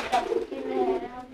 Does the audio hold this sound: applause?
no